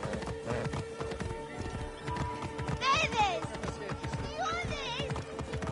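Horse hooves clip-clopping at a gallop in an Assassin's Creed game, with neighs and whinnies, voices talking over the hoofbeats.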